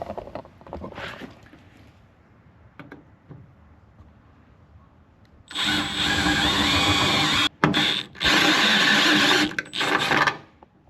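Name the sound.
step drill bit enlarging hole in metal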